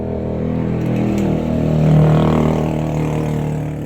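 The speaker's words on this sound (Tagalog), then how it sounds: "ang ingay ng motorsiklo" A motorcycle passes outside on a windy, rainy morning, its engine drone swelling to a peak near the middle and then fading away, loud and steady, with no talk over it.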